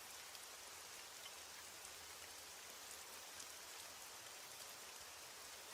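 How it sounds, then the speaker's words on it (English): Steady rain falling at night, a dense, even hiss of drops pattering on surfaces, continuous and moderately soft with no voices. "As the rain falls and the night deepens"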